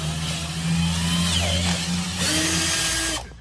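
Power drill opening a hole to about half an inch for a center exhaust bezel on a Chevrolet C8 Corvette, a loud, close, steady whine that shifts pitch as the bit bites, then stops abruptly.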